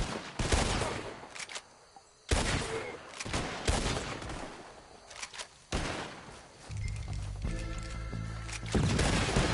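Gunfire crackles through a Red Dead Redemption 2 shootout, sharp repeated reports in bursts separated by short lulls, some near and some distant, with a sustained tone and faint movement sounds in the later part.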